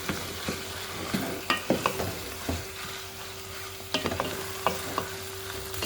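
Homegrown bitterleaf vegetable frying in a pan while being stirred, with a soft sizzle and repeated clinking, scraping spoon strokes at irregular intervals, no talking.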